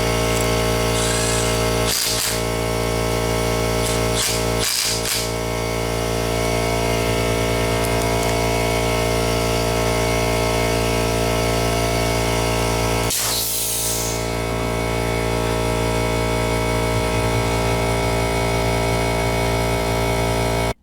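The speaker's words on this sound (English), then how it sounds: "Get used to the sound of that compressor screaming in the background on you." An air compressor drones loudly and steadily in a garage during valve spring work, with short hissing air bursts cutting in a few times over the constant roar.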